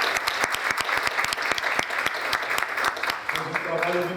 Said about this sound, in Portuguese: um aplauso para o Bulhões